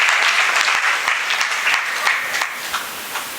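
Listeners at an Arya Samaj gurukul discourse clap together, sharp individual hand claps standing out within a close, lively round of applause that gradually thins toward the end.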